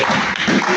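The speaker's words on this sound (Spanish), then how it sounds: "Dar fuerte aplauso" A church congregation applauds, a short burst of dense, loud clapping filling the room evenly without pause.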